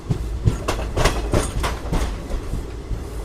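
A passenger train on the Repalle to Charlapalli run pulls out of Ghatkesar station, its wheels beating a loud, close, rhythmic clickety-clack over the rail joints, with no talk.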